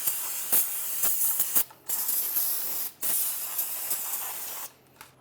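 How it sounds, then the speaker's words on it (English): Parts cleaner sprayed from an aerosol can onto a rear brake hub of a 2002-2009 Chevrolet Trailblazer, in several loud close hissing bursts of varying length with short gaps between them. "A little bit of parts cleaner."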